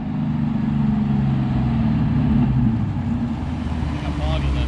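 A Coyote-swapped Mustang notchback launches off the line and bogs, its engine a loud, steady low drone that swells briefly and then settles, with faint talk near the end.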